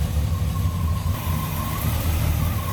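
A 1966 Pontiac LeMans Convertible engine idles steadily with a low, even rumble and faint higher whine, close and continuous without revving.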